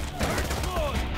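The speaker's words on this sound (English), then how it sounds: "I shoot you with my thick ass AK-47." AK-47 gunfire in a video game, a short rapid burst of shots with a thick, dense report, heard close and loud under some background game noise.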